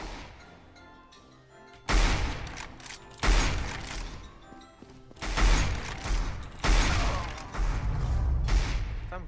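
Gunfire in Counter-Strike: Global Offensive comes in loud, sharp bursts of rapid shots separated by short pauses, close and punchy, with no talk over it.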